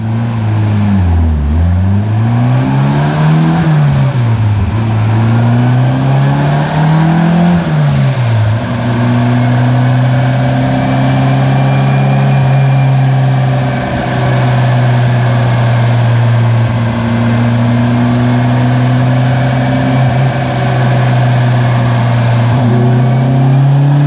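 A turbocharged VTEC car engine on a dyno pull with a stiffer wastegate spring, loud and steady, its pitch swinging up and down early before holding a sustained high-rpm drone for the rest of the run.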